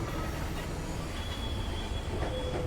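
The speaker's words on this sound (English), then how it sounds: "Very odd that that's how you move the tram." A tram rolls along its track in the video game Cronos: The New Dawn, giving a steady, close rumble with faint metallic wheel squeal and a thin whine running over it. No voices are heard.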